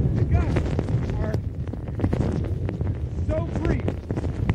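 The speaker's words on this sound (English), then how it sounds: "The highest gust is so brief." Strong gusts buffet the microphone in a steady low roar, with brief surges and rattling bursts over roughly four seconds, and a voice talks faintly underneath.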